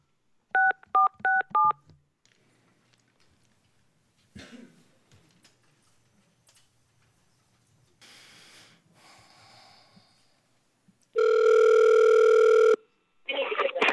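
During a special meeting, a telephone keypad beeps through a quick run of dialing tones, followed by quiet breathing and faint shuffling, then a loud steady ringing tone sounds as the call goes through.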